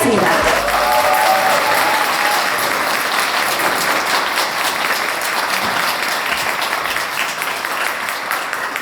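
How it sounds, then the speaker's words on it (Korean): An audience at an English academy's vision ceremony claps steadily and loudly for nearly nine seconds to welcome a special lecture, a dense, sustained round of applause that fades slightly toward the end. "특별 강연을 박수로 듣도록 하겠습니다."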